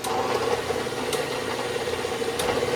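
Milling machine fitted with a flycutter starting to spin, a continuous mid-pitched motor drone with a steady tone and rattly texture, punctuated by a few faint clicks, close and fairly loud, no voices.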